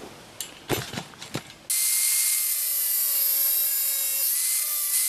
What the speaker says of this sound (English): I'll just finish by screwing it all the way down